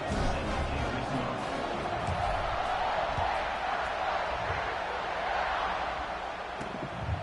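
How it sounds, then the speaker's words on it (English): Stadium crowd in the College Football 26 video game, an Ohio State against Ohio game, buzzing as a steady broad roar throughout, with a commentator talking over it. "this crowd is buzzing after that last score."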